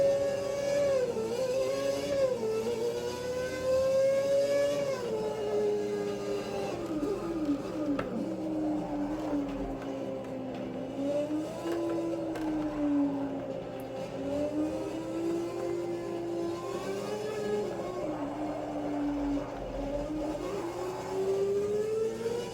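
A car engine in a racing video game, driven with a PXN V3 Pro steering wheel, revs continuously, its pitch swelling and dipping as the accelerator is pressed lightly or hard, with a steady whirring drone underneath.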